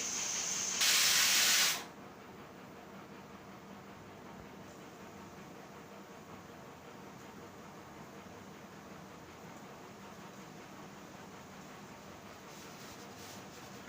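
A pressure cooker vents steam while chicken curry cooks: a loud, sharp hiss bursts out for about a second near the start, then gives way to a steady low background rumble with no talking.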